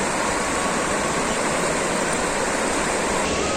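A river rushes past large stones along its bank, a dense, continuous, loud wash of water noise with no pauses or voices.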